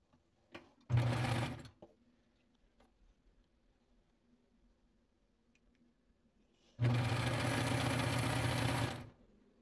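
A sewing machine stitches a silk work blouse in two bursts, a short run of about a second followed by a longer steady run of over two seconds, loud and close with quiet pauses between.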